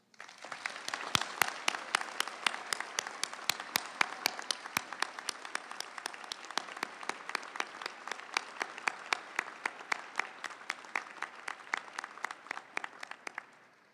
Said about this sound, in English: I invite you to recognize all of them right now with a rousing round of applause